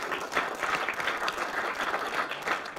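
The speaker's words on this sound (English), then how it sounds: "So give yourselves a massive round of applause." A seated audience breaks into steady, dense applause, many hands clapping together at an even level for a few seconds, with no talking over it.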